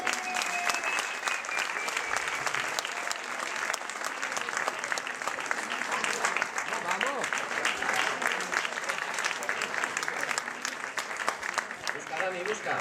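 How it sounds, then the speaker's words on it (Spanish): A crowd audience claps for a puppeteer in sustained, dense applause that stays loud and even for the whole stretch, with a few voices faintly mixed in. "Un aplauso para el primer titiritero."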